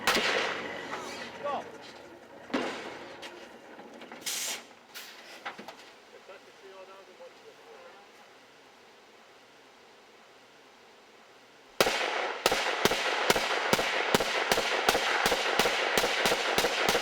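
Gunfire from old military weapons at a range in Serbia: scattered loud cracks with voices talking early on, a quiet stretch, then a rapid rhythmic string of sharp shots near the end.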